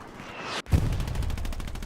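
Gunfire in Hell Let Loose on the Carentan map, a sharp close shot cracking out and followed by a rapid rattling burst of automatic fire, loud and dense with no talking.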